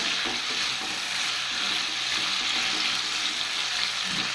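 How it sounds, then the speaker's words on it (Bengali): Potatoes frying with turmeric in hot oil produce a loud, dense, continuous sizzle with faint scraping stirs underneath and no voices. "আলুটাকে ভালো করে ভেজে নিই হলুদ দিয়ে"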